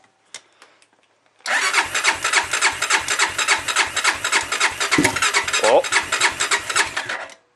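A 2001 Honda 440 ATV engine cold-starting: after a few faint clicks, it catches and settles into a loud, rapid, uneven putter with rhythmic rasping pulses, close by, with a brief voice partway through.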